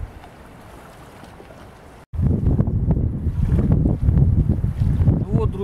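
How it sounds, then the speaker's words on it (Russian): Strong wind blowing over a river during a fishing trip on the Western Dvina: a quiet low rush at first, then loud gusting buffets against the microphone that carry on to the end, with no speech. "ветер еще больше усиливается"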